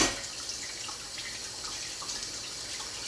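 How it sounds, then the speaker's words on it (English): Dishes being washed under a running kitchen tap: a steady hiss of flowing water with faint clinks and splashes, close by and continuous, with no talking. "Clean up these dishes as I go,"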